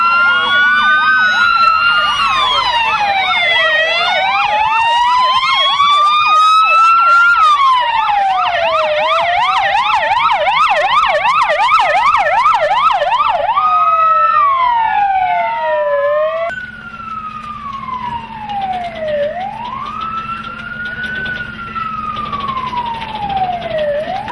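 Fire engine sirens wail loudly during an emergency response exercise, several overlapping siren patterns sweeping rapidly up and down, then a slower rising and falling wail as the trucks arrive.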